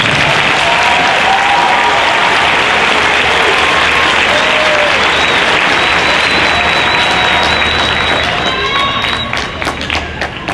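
Sustained applause from a large audience at an LAPD cadet ceremony, dense steady clapping with some cheering throughout, tapering slightly at the end.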